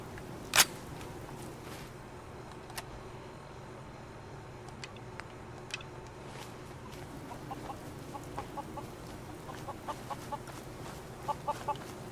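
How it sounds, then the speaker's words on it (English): Rad chicken clucking in the video game Fallout, a few soft, brief clucks scattered over steady ambient game background, fairly faint with no talk. "Why would I want to shoot a rad chicken?"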